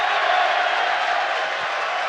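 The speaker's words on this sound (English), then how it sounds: "And the crowd roars" A stadium crowd roars steadily and loudly after a goal in an ultimate frisbee gold medal game, a dense sustained wall of cheering with no break.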